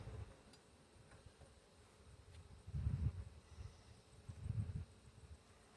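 Honeybees inside a Layens hive make a low, faint hum that swells twice into closer buzzing bursts, with soft rustling between.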